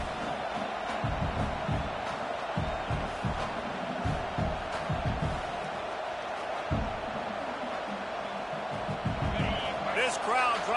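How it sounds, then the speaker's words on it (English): A stadium crowd in the College Football 26 video game roars as a steady wall of noise, with a commentator talking over it throughout and a few thuds and bursts rising near the end. "This crowd trying to make life miserable for this offense"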